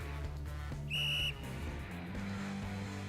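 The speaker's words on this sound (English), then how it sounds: "With a violently loud blow of his whistle, the coach also takes his position to show the proper technique." A sports coach in a video game blows a sharp whistle once, a loud shrill tone lasting under half a second over steady game background music.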